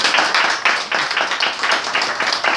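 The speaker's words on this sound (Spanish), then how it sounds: "Ahora cortamos la cinta, le hacemos un aplauso" Small group clapping at a shop inauguration after the ribbon cutting, close and loud, with individual hand claps distinct in a quick uneven rhythm rather than a smooth roar.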